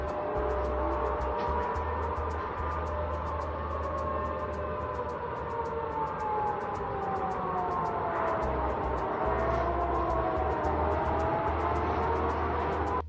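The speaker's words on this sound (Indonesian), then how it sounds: "Sirene mulai berbunyi di tengah malam di kota-kota Rusia." Wailing air raid sirens rise and fall steadily across the whole stretch at midnight in Russian cities, with several overlapping tones over a low rumbling hum, heard from a distance.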